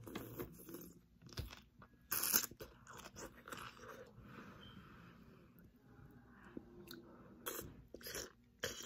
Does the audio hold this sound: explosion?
no